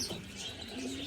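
Racing pigeons after their first training toss, cooing softly at close range with low, rounded calls and a few brief chirps, quiet and without talk.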